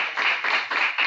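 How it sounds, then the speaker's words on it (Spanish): Audience applauding at a cybersecurity and criminal law conference session, a short burst of steady clapping from a room of people with no talking over it. "no le vamos a privar del aplauso, Margarita, ¿no?"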